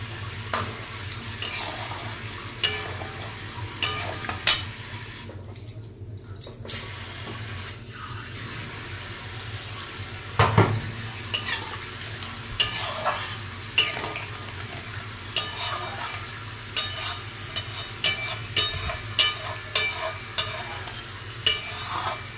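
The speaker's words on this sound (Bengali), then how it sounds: "এবারে আলুটা সেদ্ধ হওয়ার জন্য একটু জল দিয়ে দেবো" Potatoes in a frying spice mix hiss after water is poured in, with repeated scraping stirs of a spatula against the pan at a steady, unhurried rhythm, close and clear, a soft running-water sound early on.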